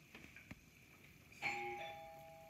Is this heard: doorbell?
yes